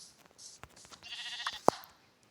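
Sheep bleat briefly amid faint scattered background noise, with one short, sharp bleat standing out near the end.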